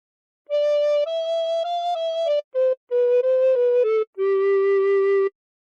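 A recorder plays a phrase of God Defend New Zealand, about nine clear, steady blown notes in a simple melodic line with short gaps between them, solo and close.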